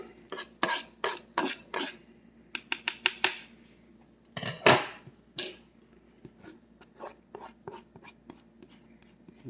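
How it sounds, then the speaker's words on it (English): Chopped eggs dumped into a soup pot in a home kitchen, heard as a quick series of sharp clinks and clatters with a louder scraping burst midway, then lighter taps fading out. "we're just gonna dump these right in there"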